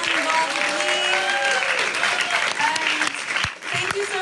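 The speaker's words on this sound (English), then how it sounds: "more round of applause for everyone involved with me." A film screening audience gives sustained, lively applause, with scattered cheers and voices rising over the clapping until it thins near the end.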